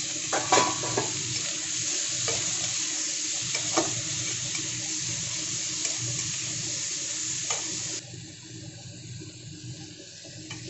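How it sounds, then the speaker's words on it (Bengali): Tomatoes and prawns hit a pan of lightly fried onion, giving a steady close sizzle with faint stirring scrapes, quieting slightly near the end. "এখন দিয়ে দিচ্ছি টমেটো আর চিংড়ি মাছ।"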